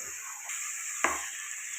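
Chicken being stirred in a hot pan for a chicken fry, a soft sizzle running steadily with a short scraping stir and a brief clatter near the end, quiet and close.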